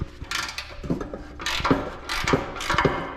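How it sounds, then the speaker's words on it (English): Repeated ratcheting clicks from a wrench turning a bolt on a 1983 JDM Z31 rally car during a transmission and subframe drop, in several short close bursts with brief pauses between strokes. "I should have used a box wrench to hold the other side."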